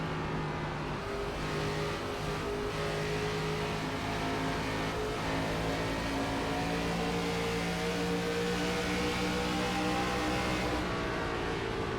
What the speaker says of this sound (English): It's fun listening to these guys with their throttle inputs